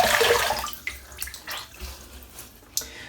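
Water splashes as a man wets his face before a wet shave, a brief rush of running and splashing water at the start followed by scattered faint drips and splashes nearby.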